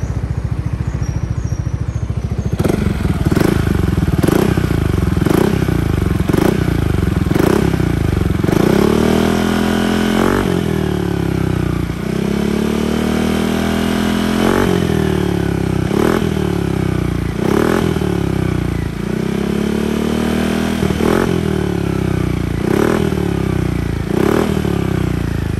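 Touring motorcycle engine revving up in repeated bursts with traction control still active, loud and close, each throttle blip rising then dropping back to a rough idle, no voices.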